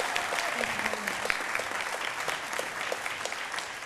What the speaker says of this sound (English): please, round of applause for the Chief